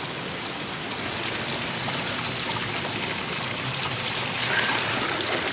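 A small mountain waterfall on a trek toward Machu Picchu rushes in a steady, close, loud broadband wash while water is collected from it, with no talk.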